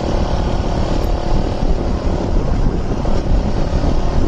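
Suzuki Raider motorcycles, fuel-injected and carbureted versions, street racing; a loud, steady engine roar runs throughout with heavy wind rush, no voices.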